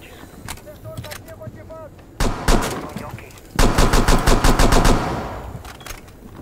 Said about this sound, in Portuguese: dando alguns tiros na parede